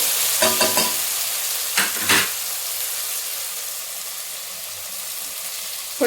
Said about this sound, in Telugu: ఉడికించి పెట్టుకున్న బాస్మతి రైస్ దీనిలో వేసేసేద్దాము